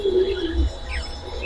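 Racing pigeons cooing in a loft, a couple of soft low throaty coos close by with faint chirps around them.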